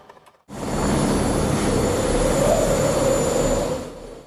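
A steady, broad roar of a jet aircraft in flight starts abruptly after a brief quiet moment and holds loud and constant throughout.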